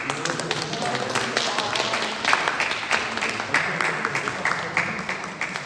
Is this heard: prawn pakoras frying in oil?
no